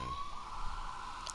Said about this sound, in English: I'm sorry for the police siren.